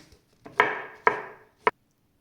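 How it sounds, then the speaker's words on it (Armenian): A knife strikes a cutting board while chopping raw chicken breast, giving three distinct, fairly close chops spaced about half a second apart, each a sharp thud with a brief wet ring, alone without talk. "Այնպես որ հիմա սա կտրատում ենք, հավի միսն էլ կկտրատեմ"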